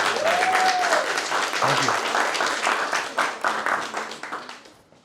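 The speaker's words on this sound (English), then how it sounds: "Can you give him a round of applause?" Audience applause at a crypto conference panel in New York, a dense steady clapping that fades toward the end, with someone briefly speaking over it.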